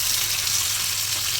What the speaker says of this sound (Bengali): অন্য একটি প্যান নিয়ে এর মধ্যে মাছের মাথা খুব ভালো করে ভেজে নেব।